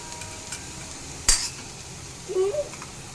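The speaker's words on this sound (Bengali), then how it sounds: "এবার আমি চাউমিনটা অ্যাড করে দেব।" Egg chow mein noodles with potato, onion and egg being stirred in a pan at home, one sharp clink of utensil on metal near the middle, then a brief scraping stir, with no talking.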